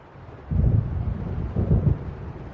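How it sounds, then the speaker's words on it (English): Thunder from an approaching storm in the video game Alan Wake Remastered rolls in two deep, heavy rumbles, each swelling and fading slowly over a constant low wind-like background. "It seems there's a storm coming."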